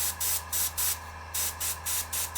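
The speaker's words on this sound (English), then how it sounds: "I'm going to spray on my finger a little bit just to see what the tone of the color is" Airbrush paint spraying while painting a Shadows of Brimstone miniature: six short hissing bursts of about a quarter second each, evenly paced with brief gaps, steady and close, over a low constant compressor hum, with no talking.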